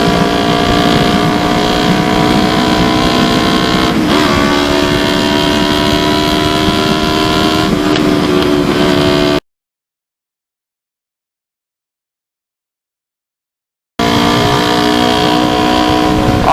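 A Yamaha R25 motorcycle with an Akrapovic Racing Line exhaust roars loudly and steadily with brief rev rises, then cuts to several seconds of silence before the same loud engine note returns.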